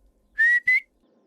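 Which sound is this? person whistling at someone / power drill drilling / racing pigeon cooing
person whistling at someone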